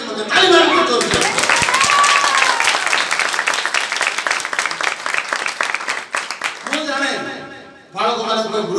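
Loud, dense applause from a church congregation welcoming evangelical workers, sustained for several seconds, with a voice speaking at the start and again at the end.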